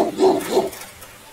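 A dog in a video game lets out two quick barks close by, followed by a fainter trailing yip as the sound fades away.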